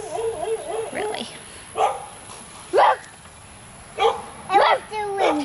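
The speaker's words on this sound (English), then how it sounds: "You're going to make him bark more." A pet dog barks several times in short, separate bursts, fairly close and loud, with whiny vocal sounds at the start and a constant background hiss.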